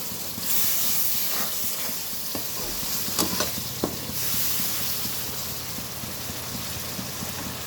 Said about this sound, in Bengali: এখানে দুই চামচ পরিমাণ রসুন দিয়ে দিলাম সব একসাথে একটু ভেজে নেব